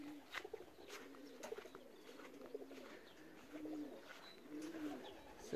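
Racing pigeons back at their loft after a long race from Sieradz coo softly and repeatedly, a low, rolling call that returns every second or so over quiet background noise.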